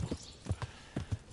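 Horse hooves in the video game Kingdom Come Deliverance: a faint, sparse clip-clop of paired hoof strikes at a walking pace, heard alone.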